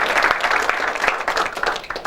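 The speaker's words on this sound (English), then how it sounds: "Please give a round of applause." An audience at a tech-day event breaks into applause, a dense, steady wash of clapping from many hands that holds evenly throughout without voices over it.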